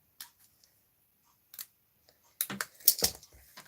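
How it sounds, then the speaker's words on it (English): Scissors snip through a stamped paper image in a quiet room, a few isolated faint clicks followed by a quick cluster of sharper, closer cuts near the end, with no voices. "you've got to cut this out."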